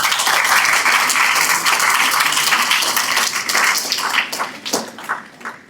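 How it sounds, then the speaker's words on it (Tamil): An audience at an IAS coaching academy event claps for a student who earned an all-India rank, loud sustained applause that thins into scattered individual claps and dies away near the end. "நல்லா கைத்தட்டலாம் அவருக்கு."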